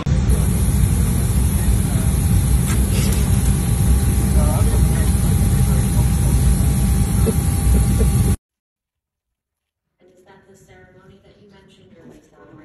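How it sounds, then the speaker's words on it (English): A golf cart drives along with a constant engine drone and wind rumble close by for several seconds, then cuts out abruptly before people talk over quiet. "We are driving a golf cart for"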